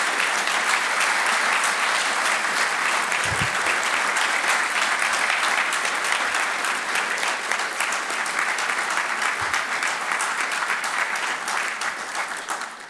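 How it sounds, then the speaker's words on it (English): A large audience applauds steadily at a real estate center dedication ceremony, dense sustained clapping that stays loud throughout and tapers only slightly at the end. "join me in a round of applause for Robert and Lauren Steers"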